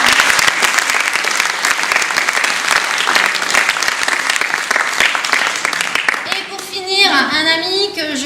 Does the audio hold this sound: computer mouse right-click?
no